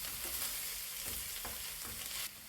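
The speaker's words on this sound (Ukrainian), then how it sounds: "Додаю томатну пасту і трохи протушковую" Tomato paste frying and stewing in a hot pan, a steady close sizzle with a few soft stirring scrapes, no voices.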